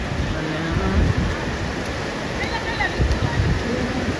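Water rushes and splashes steadily at a village stream, a continuous close roar with brief higher splashes and faint voices now and then.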